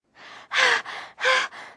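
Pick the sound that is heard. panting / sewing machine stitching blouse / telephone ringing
panting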